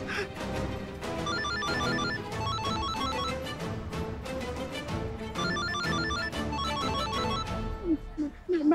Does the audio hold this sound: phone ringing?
yes